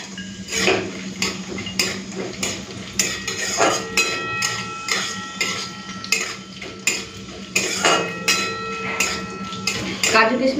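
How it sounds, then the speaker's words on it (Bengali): Bay leaf, cashews and raisins fry with whole garam masala in a pan, a soft sizzle underneath repeated sharp clinks and scrapes of a metal spatula against the pan, close by. "দিয়ে দেবো তেজপাতা, কাজু কিশমিশটাও দিয়ে একটুখানি ফোড়নের সাথে ভেজে নেব।"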